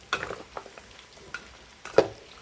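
Marinated pork ribs fry in a pan, giving a soft sizzle broken by a few sharp stirring scrapes and clinks, close and alone.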